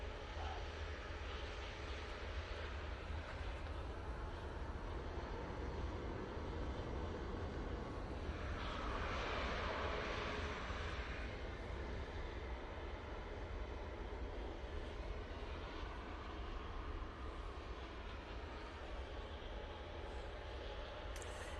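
A Ryanair airliner lands at Manchester Airport, its engines a steady, distant roar that swells briefly about midway before settling back into the same even rumble.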